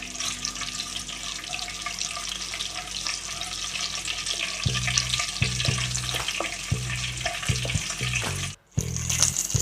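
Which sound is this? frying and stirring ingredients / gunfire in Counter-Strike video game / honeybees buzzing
frying and stirring ingredients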